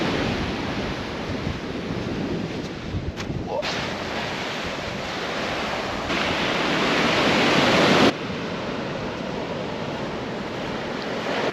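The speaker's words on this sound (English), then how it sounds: "shore crasher waves, so we've been watching the tide for a while" Ocean shore-crasher waves pounding a California beach at rising tide, a continuous loud roar of surf that swells into a heavier crash before settling, with wind noise over it.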